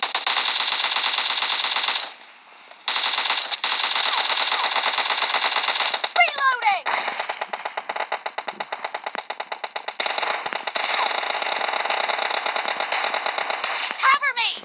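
Rapid automatic gunfire from PUBG Mobile Lite rattles almost nonstop, loud and close, with a brief pause and a few scattered single shots between dense bursts.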